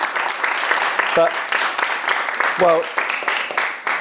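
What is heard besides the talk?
audience applause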